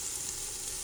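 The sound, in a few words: onion mixture frying in a pot for lentil soup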